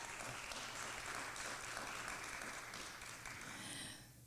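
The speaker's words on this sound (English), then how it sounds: "Round of applause, folks." Sustained applause from an audience at a Portland startup community event, dense steady clapping throughout that tapers slightly near the end.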